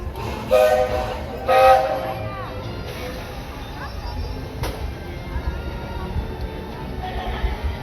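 Walt Disney World Railroad train rolling through the Magic Kingdom, a steady low rumble of the moving cars with two brief louder bursts early on, as a voice speaks over it.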